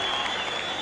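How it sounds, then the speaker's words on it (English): Big boxing crowd at John O'Donnell claps and cheers for their fighter, a dense, even roar of applause heard from a distance under broadcast sound. "There you see the big crowd on hand here at John O'Donnell"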